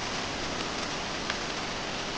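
Steady rain falling, a dense even hiss of drops with no break, moderately loud and heard alone.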